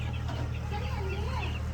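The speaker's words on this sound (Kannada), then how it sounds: "ಇದನ್ನ ವೀಕ್ ಕೋಳಿ ಅಂತ ಕರೀತಾರೆ" A flock of chickens at a poultry farm clucks and murmurs steadily throughout, a dense, continuous barnyard chatter with a few rising and falling calls standing out from the crowd.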